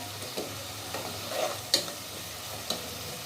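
Taro stems stirred into a pan of frying shrimp, with a faint steady sizzle under soft scraping stir strokes and a few sharper clinks of the utensil against the pan.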